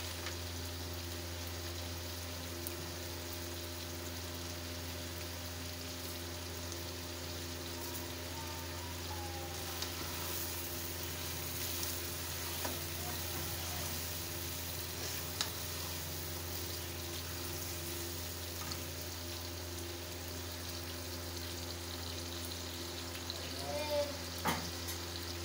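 Biryani masala fries in a pot, a steady low sizzle and hiss running evenly throughout with faint scattered pops, no talking.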